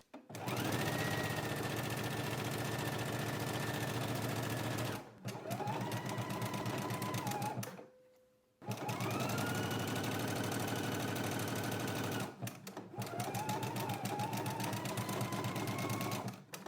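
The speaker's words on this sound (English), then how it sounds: "then I'm just going to stitch around the pocket" A sewing machine stitching around a pant pocket runs in loud, rapid, even bursts, pausing briefly twice and once for nearly a second before resuming at full speed.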